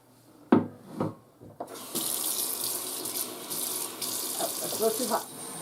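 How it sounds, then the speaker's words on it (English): Hot tap water gushes into a sink in a steady broadband rush after a few short knocks and clatters, continuing loud and close until the end, while baking sheets are rinsed. "I'm going to get my hot water. I'm just going to rinse this off."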